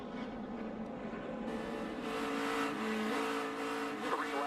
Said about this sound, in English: I want you to listen to the engine sound.